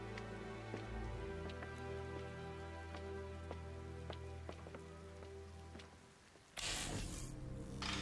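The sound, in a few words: rain falling in video game Ninja Gaiden 4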